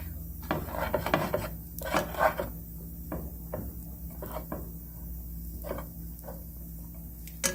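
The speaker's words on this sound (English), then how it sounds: "Gotta scrape the bottom, make sure it doesn't get stuck." A spatula scrapes repeatedly across the bottom of a pan of frying chickpea rice with fresh vegetables, giving a series of short rasping strokes over a low steady hum, with no talking.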